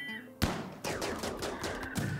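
Gunfire in the Rimworld video game: a quick series of sharp shots with clear gaps between them, at moderate level and with no talk.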